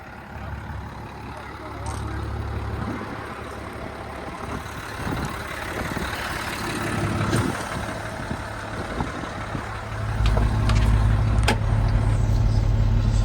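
A 1995 Mitsubishi Fuso FH100 equipment-hauling truck, a former fleet unit with a 5-liter inline-6 diesel, runs with a steady low rumble that grows louder near the end, with faint voices underneath.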